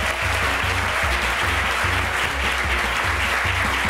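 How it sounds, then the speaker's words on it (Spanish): A comedy TV studio audience gives loud, dense applause for an actress, steady clapping throughout with a rhythmic low musical pulse beneath it and no voices. "Un gran aplauso para ella."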